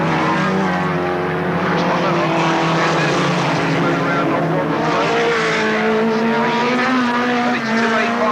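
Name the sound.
race cars going round the raceway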